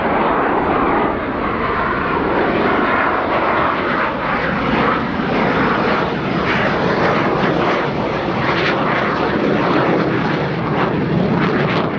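A Romanian MiG-21 LanceR fighter jet in a flying display at an airshow roars loudly and steadily overhead, a broad continuous engine rush that swells and shifts slightly, with no talking.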